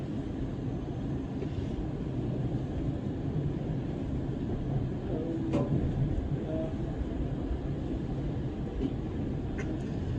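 A London Northwestern Railway Class 350 electric train runs out of Euston, a steady loud rumble and rush heard from inside the carriage, continuous throughout with a few faint clicks and knocks.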